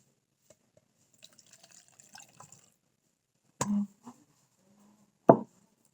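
Spearmint tea being poured into lemonade, heard as a few soft liquid splashes and trickles with a brief louder splash near the end, close by and with no talk.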